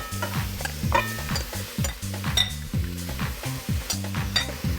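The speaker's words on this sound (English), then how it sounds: "all you have to do is to add your seasoned pork to the pot" Seasoned pork browns in a pot with no oil, sizzling up close as a utensil scrapes and clatters against the pot in quick, uneven strokes, with no talking.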